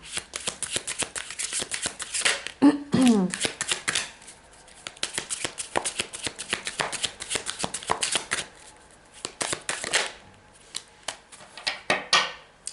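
A deck of tarot cards is shuffled close by in repeated rapid riffling bursts with brief pauses between them, plus a few handling taps.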